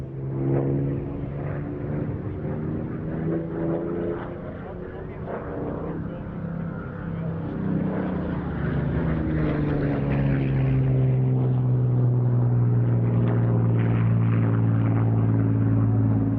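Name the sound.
Hawker Hurricane propeller fighter aircraft flying at airshow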